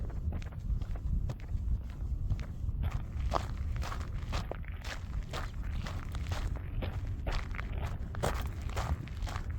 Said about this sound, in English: I'm sure you can hear my footsteps against the little rocks on the ground.